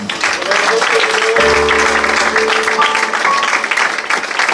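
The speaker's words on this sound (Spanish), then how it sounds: "Denle un aplauso al Señor." Church congregation applauding during a Spanish-language worship service, a steady dense wash of clapping throughout, with a low sustained organ or keyboard tone entering partway through.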